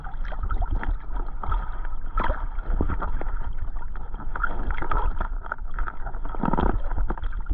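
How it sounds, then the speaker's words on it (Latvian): A small boat is nudged closer across open water, with a steady churn of hull and motor noise, wind buffeting the microphone and occasional splashing gurgles, continuous and fairly close with no talking. "Es piebraukšu laiviņu tuvāk bišķi."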